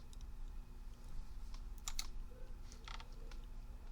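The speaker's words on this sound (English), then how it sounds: "you can always type it in manually yourself" An address being typed by hand on a computer keyboard, heard as quick clusters of close key clicks separated by short pauses over a low steady hum.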